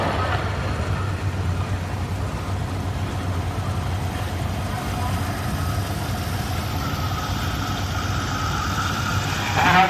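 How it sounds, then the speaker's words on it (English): A 1950 John Deere Model P tractor runs at a threshing show parade, its engine a steady, moderately loud chugging drone that continues without pause from start to finish. "This is a 1950 John Deere Model P, owned and operated by Corbin Conway."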